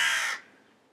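A single harsh crow caw from a territorial crow, loud and brief, fading quickly into quiet.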